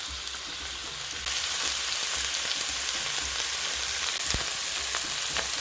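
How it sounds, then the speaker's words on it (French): Beef pieces browning in hot oil for a stew, giving a steady, dense hiss of frying that grows louder after the first second and stays even, close up with no talk. "Je laisse rissoler."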